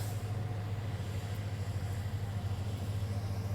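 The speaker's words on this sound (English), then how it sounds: "all these trucks are passing by making noise" Heavy trucks passing along a road outdoors make a steady low engine rumble and drone that holds loud and constant, with no pauses and no voices.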